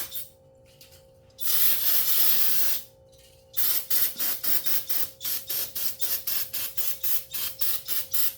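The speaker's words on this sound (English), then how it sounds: "Spray off the linkage stuff down here." Cleaner sprays onto the carburetor linkage of a Homelite generator in a long hiss, a pause, then a rapid run of short repeated spray bursts, close and loud.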